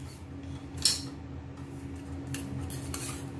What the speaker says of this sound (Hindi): दोस्तों अब हम बघार लगाने के लिए एक फ्राई पैन ले लेंगे